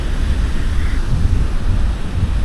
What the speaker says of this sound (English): These waves are getting bigger and bigger.